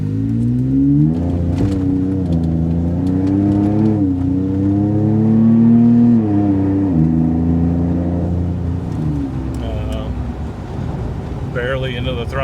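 A Ford Tremor pickup truck fitted with 3.31 gears accelerates gently on the road, its engine tone rising in several smooth steps with upshifts. The engine runs loud and close throughout, with someone talking over it.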